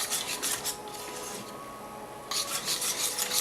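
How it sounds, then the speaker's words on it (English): A thick, gummy pudding-like mixture being whisked by hand in a bowl during a home cooking show, heard as steady rhythmic rasping scrapes that pause briefly midway and then resume, close and fairly loud with no talk. "So we whisk this up."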